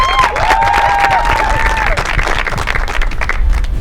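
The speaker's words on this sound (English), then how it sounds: "A big round of applause for those of you that are coming from the Copper" A studio audience at a televised presenter-search finals cheers and applauds loudly, a thick roar of clapping and crowd noise with whistles rising over it early on, sustained throughout.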